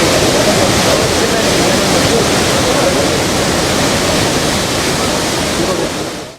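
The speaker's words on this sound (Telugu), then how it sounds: "హిమాయత్ సాగర్ 1 గేటు 1 అడుగు మేర ఎత్తి 330 క్యూసెక్ల నీటిని మూసీలోకి వదిలారు" Floodwater pours through the raised gates of Himayat Sagar reservoir near Hyderabad, a loud, steady roaring rush that fills the scene without a break before cutting off at the end.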